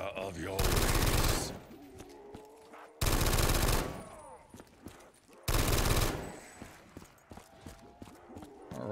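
Gunfire in Black Ops 3 Zombies on a Futurama custom map: three loud bursts of rapid automatic fire, each about a second long and separated by short gaps filled with scattered game sounds.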